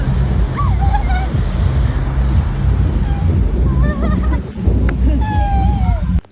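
Sea waves wash steadily at Vagator Beach in Goa, a loud, continuous surf roar with wind, while voices call faintly over it.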